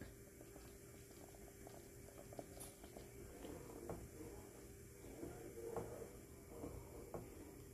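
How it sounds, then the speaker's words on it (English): Liquid bubbles and simmers at low volume, with soft irregular pops and a steady background hiss, no talking. "And watch it start boiling again."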